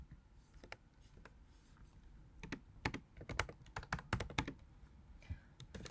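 Code typed on a computer keyboard while solving a programming problem: irregular bursts of close key clicks and clacks, sparse at first and then quicker clusters, with no talking.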